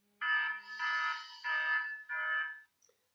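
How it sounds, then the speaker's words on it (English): A phone app's panic button sets off a loud electronic alarm: four repeated harsh buzzing bursts with short gaps, heard alone and close. "It also makes the phone vibrate and an alarm goes off."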